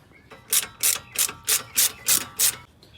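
A hand ratchet cranks on a brake caliper bracket bolt of a G35/350Z, seven loud, evenly spaced clicking strokes close by with no talking.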